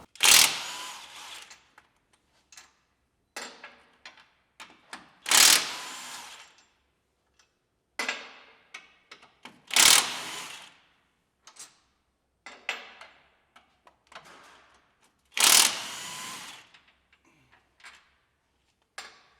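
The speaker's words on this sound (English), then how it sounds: "These are 18 millimeter bolts, and we're going to go ahead and remove those now." Someone removes 18 mm bolts from a Jeep Wrangler frame with power tools: several loud bursts of an impact wrench, spread roughly every five seconds, with short ratchety clicks and metal clanks between them.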